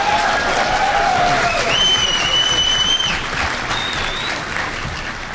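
Audience applause for a contestant at a hacker conference panel, steady crowd clapping with a few whistles and voices, fading slightly toward the end.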